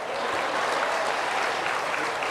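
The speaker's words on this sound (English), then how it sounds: "Let's give him a round of applause." Steady applause from an audience at a World TB Day commemoration, a dense wash of clapping that holds evenly throughout with no voices rising above it.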